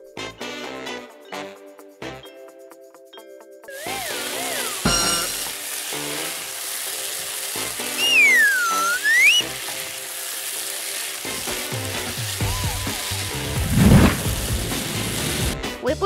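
Food sizzles steadily in a hot pan, a loud continuous crackle and hiss that builds after a few seconds of quieter kitchen clatter, with a brief tonal squeal midway.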